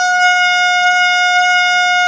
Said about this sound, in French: Tu sais, avec le temps, je vais finir par m'habituer à ce klaxon.